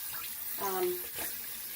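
Water runs from a tap in a steady stream, splashing briefly as a vacuum cleaner part is rinsed under it, with a muffled background hiss.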